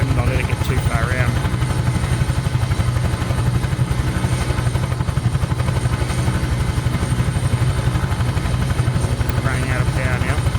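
Huey helicopter in Microsoft Flight Simulator, its turbine and rotor producing a steady loud thumping drone throughout, with continuous rhythmic blade chop and no break.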